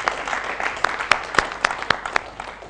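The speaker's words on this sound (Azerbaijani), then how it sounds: "Alqışlarla yola saldı Xəyalə xanımı" A quiz show's studio audience claps in moderate applause, with sharp individual claps standing out against a softer background of clapping.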